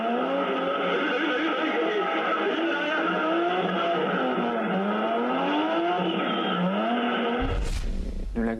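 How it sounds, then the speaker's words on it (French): Rear-wheel-drive tuned cars drift around a circuit, their engines roaring steadily at high revs with tires hissing and squealing throughout, before a sharp burst of skid noise at the end. "De la glisse qui se fait tout en puissance avec des véhicules de type propulsion. Voilà ce qu'est le drifting."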